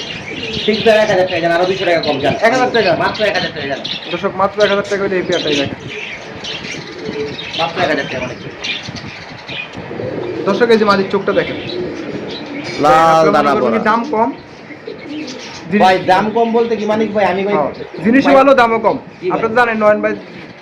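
Pigeons at a pigeon sale coo and call in repeated bursts throughout, mixed with loud nearby chatter of people bargaining.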